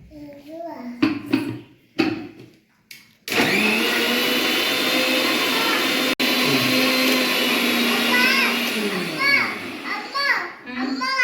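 Children chatter briefly before a loud mixer grinder whirs on, blending papaya juice steadily for several seconds and then winding down as voices return.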